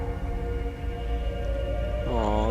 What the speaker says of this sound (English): Oh, there's a whale.